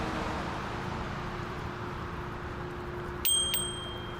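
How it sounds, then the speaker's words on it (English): A small bicycle bell rings once with a bright metallic ding and short decay, heard over steady traffic-like background noise. "So I tried to have a little ringy-ding bell on here"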